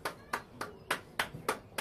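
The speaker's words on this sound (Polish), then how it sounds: "Wyszły nam brawa." Hand claps in a home body-percussion music exercise, seven evenly spaced sharp claps in a steady rhythm, close and fairly quiet, with no talk.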